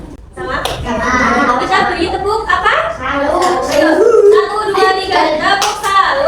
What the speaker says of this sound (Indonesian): Tepuk tangan, tepuk kiri, dua jempol, salut.